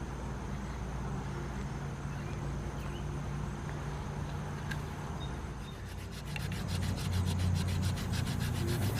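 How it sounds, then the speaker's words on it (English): A wooden crankbait lure is hand sanded with 80 grit sandpaper: continuous, even scratchy rubbing strokes, close up, with a brief quicker and louder stretch toward the end and no talking. "Now we're just sanding along with 80 grit sandpaper"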